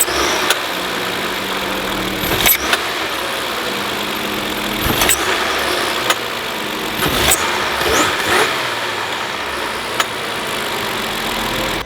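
An Audi A7 engine runs steadily with a faulty supercharger clutch, giving a constant mechanical drone marked by sharp intermittent squeaks every second or two, close and fairly loud.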